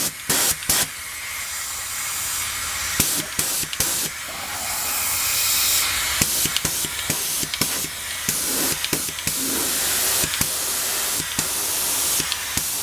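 A small paint sprayer spraying primer onto Briggs Model N engine parts, loud broadband hissing bursts that start and stop repeatedly, close by and with no talking.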